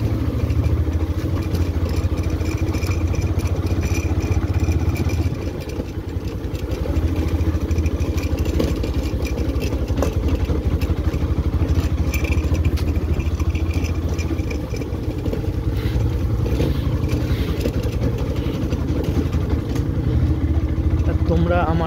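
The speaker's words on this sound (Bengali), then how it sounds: "আর আমার বাইকের সাউন্ডটাও খুবই লাউড" Loud, steady motorcycle engine drone on a ride along a rough village road past ponds, the mid-pitched rumble continuous throughout with a brief dip in level twice.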